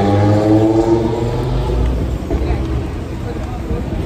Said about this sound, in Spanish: ¿Escuchéis los coches?